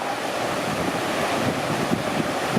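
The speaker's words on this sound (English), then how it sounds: "River's flowing pretty strong." A strongly flowing river along a mountain trail rushes as a loud, steady broadband roar of water close by, with no voices.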